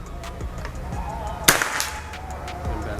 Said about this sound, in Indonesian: Nah, ini kita ke tembakan yang keenam ya, atau yang terakhir